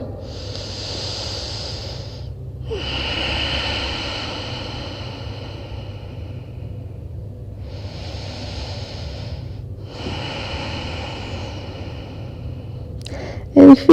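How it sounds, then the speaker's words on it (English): Deep, long breaths drawn in and pushed out through the nose during a yoga class, a slow rhythm of about four soft airy hissing cycles, close and clear over a low room hum. "Take deep, long breaths through the nose"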